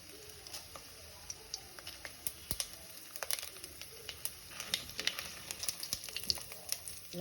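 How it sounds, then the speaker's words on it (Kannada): Whole spices roasting in hot oil for a baby corn masala curry, a quiet, steady crackle with scattered small pops and sputters rising toward the end, with no talk over it. "ಈ ಪದಾರ್ಥನ ನಾವು ಆಯಿಲಲ್ಲಿ ಚೆನ್ನಾಗಿ ರೋಸ್ಟ್ ಮಾಡೋಣ"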